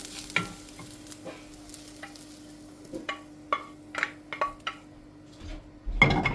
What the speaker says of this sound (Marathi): पळय जालो आमचो कांदो गोल्डन ब्रावन जालो काडून घेता तेका आतां